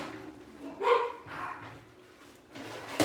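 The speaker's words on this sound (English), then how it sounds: "I told you that they would be barking" Dogs bark at home in a kitchen where cookies are being baked, a few fairly distant, muffled barks in separate bursts over low household background noise.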